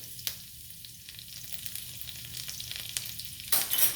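Thyme and rosemary fry in hot oil in a cast iron skillet, a close crackling sizzle with scattered pops and the scrape of stirring, growing louder at the end.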